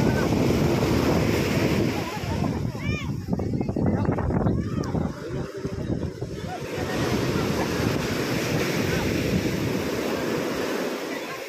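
Ocean surf churns and washes continuously with heavy wind buffeting the microphone, while people talk over the roar of the waves during a beach-seine anchovy catch.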